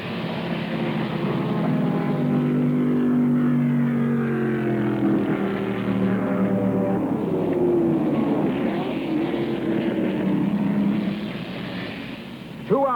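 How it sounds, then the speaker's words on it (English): Race cars at the 1965 12 Hours of Sebring roaring down the back straight, a loud, continuous blend of engine noise with rising and falling pitch sweeps as they pass close by. "Onto the back straight, and Hall passes to take the lead away from Gurney."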